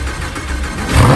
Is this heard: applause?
no